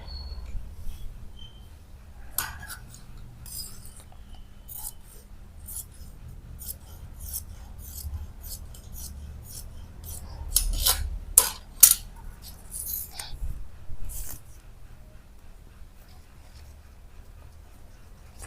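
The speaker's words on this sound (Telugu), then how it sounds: "ఇప్పుడు వెనుక భాగం కట్ చేసుకుందాం" Scissors snip through blouse lining fabric in a run of short, crisp cuts, close and fairly quiet, spaced irregularly over a low background hum.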